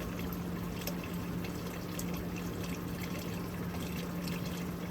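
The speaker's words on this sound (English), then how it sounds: "I'll put the water in." Water is poured in for hand-washing laundry inside a travel van, a steady, soft, continuous stream that stays faint and even throughout.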